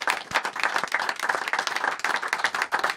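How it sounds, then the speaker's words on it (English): An audience claps for a guest on a football-themed TV chat show, with crisp individual claps in an uneven, lively rhythm, fairly close and loud, over three seconds. "he deserves a round of applause for what he's doing"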